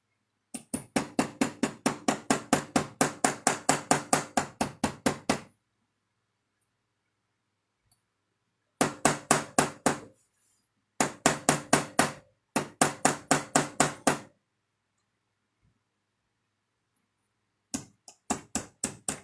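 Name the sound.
tapping with a nylon hammer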